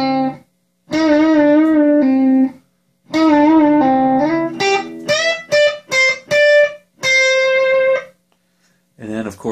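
An electric guitar plays a solo, sustained singing notes with whole-step bends high on the second string, then quicker phrased notes, clear and close with short silences between phrases.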